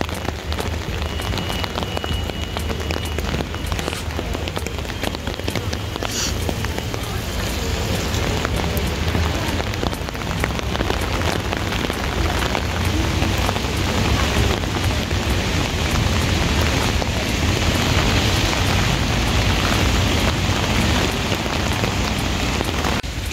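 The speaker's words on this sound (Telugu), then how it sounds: "వర్షం భయంకరంగా పడుతుంది." Heavy rain pours down on a shopping street in Paris, a dense, steady hiss and patter of drops on pavement, close and loud throughout with no talking.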